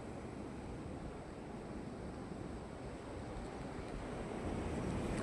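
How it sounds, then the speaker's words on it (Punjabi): Fast-rising flood water of the Beas river rushes past in a steady, broad roar, faint and distant and mixed with wind noise, with no talking heard. "ਆਹ ਵੇਖੋ ਤੁਸੀਂ ਦੇਖ ਸਕਦੇ ਕਿੰਨੀ ਸਪੀਡ ਨਾਲ ਪਾਣੀ ਵਾਧਾ ਆ ਰਿਹਾ ਜੀ"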